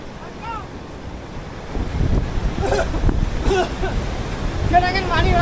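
Wind gusts and sea surf buffet a fishing boat out on open water, a steady rushing roar that grows louder partway through, with faint voices calling over it.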